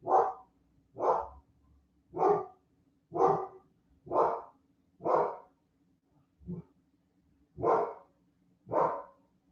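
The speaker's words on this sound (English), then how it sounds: "There's my dog again." A dog barks repeatedly, about nine loud, close barks in a steady rhythm with a short gap near the end, no talking over them.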